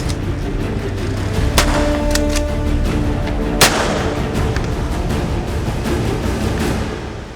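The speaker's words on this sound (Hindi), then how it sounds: "और आखिरकार गोलियां चलने लगी।" Gunfire rings out in a village setting as bandits flee, several sharp loud cracks over a dense, rumbling background roar, the shots scattered rather than rapid.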